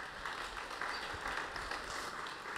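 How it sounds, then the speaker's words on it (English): An audience at a graduation showcase event applauds: dense, steady clapping from a crowd, moderately loud and continuous throughout without a break. "An applause, please."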